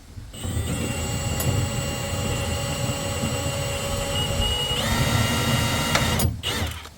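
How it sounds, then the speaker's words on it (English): A step drill whines steadily at high speed, grinding out metal rivets on a Mitsubishi Magna street stock car, with a shift in pitch partway, then briefly stops and restarts near the end. "I've never tried to drill rivets out with a step drill before"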